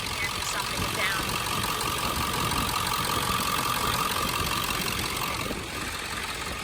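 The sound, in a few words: 1999 Ford F250 7.3 Powerstroke diesel engine idling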